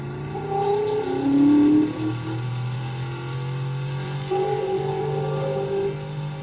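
A car engine fitted with an engine sound mod hums and revs, rising in pitch a couple of times, steady and fairly close, with no talking.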